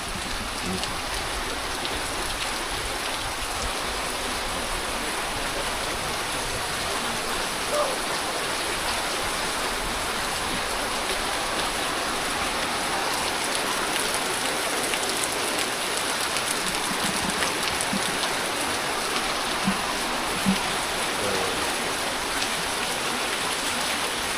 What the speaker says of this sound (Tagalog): Medyo may hangin na at malakas na yung ulan.